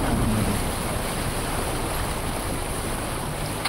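The Keng Cheng Thang river flows around someone wading through it, a steady broadband rush of moving water with some wind buffeting, continuous and fairly loud, with no voices.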